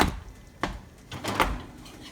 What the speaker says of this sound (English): Now, open the oven door using the oven mitts and take out the pizza.